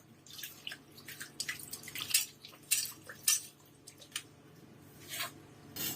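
Iron tawa griddle rinsed with clean water at a kitchen sink: irregular splashes and drips with small scrapes and wet squishes of hand or cloth on metal, close and fairly quiet, no talk.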